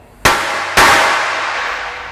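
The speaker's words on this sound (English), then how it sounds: "If you ever go to hammer on this, it's like hammering on an anvil." A hammer strikes a 3/8 inch steel workbench top twice, about half a second apart, each blow a loud sharp clang with a long ringing decay.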